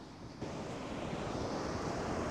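Ocean waves roll onto the Mauritanian coast, a dense, broad rushing wash with heavy wind buffeting the microphone, swelling slightly after a moment and holding steady.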